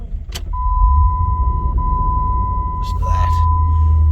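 A Jeep Grand Cherokee WJ engine idles steadily with a low rumble, a thin steady whine running over it, and a brief rattle near the start and again toward the end.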